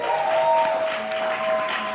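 A poetry slam crowd at ATL Spring Fling 2023 applauds a poet, a loud, continuous wash of clapping with a faint steady tone running underneath.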